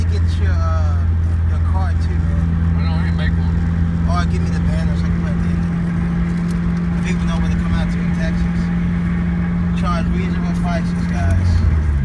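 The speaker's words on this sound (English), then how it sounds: "Car driving, sounding great." A car with its engine running, apparently a Honda Civic with an R18 engine, gives a steady droning hum throughout, with people talking over it.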